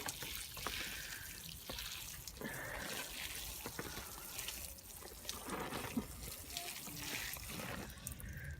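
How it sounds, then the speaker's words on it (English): Water pours and trickles continuously onto newly sown squash and onion pots at an allotment during a thorough soak, a soft steady splash at close range with faint outdoor background. "Just giving everything a thorough soak in now."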